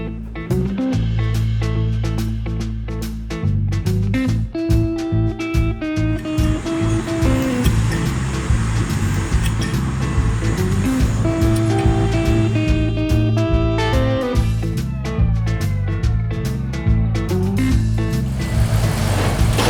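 A car pulls away for a quick lap around the block after a gearbox fluid change, its engine droning steadily with gear changes and rising revs, close and continuous throughout.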